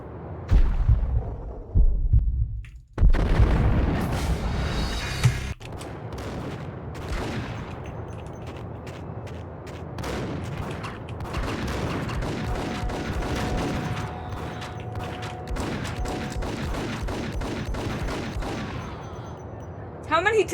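Shotgun blasts and other gunfire in Max Payne. A loud cluster of shots opens, then scattered, punchy reports and echoing impacts continue over a steady background din.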